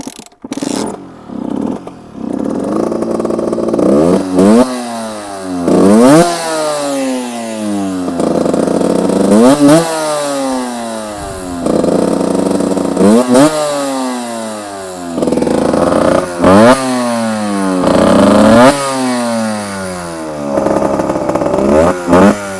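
A 2011 Beta RR50 50cc dirt bike engine revs up and down repeatedly, sharp rising whines followed by falling drops, loud and close with a buzzy, rattly idle between bursts.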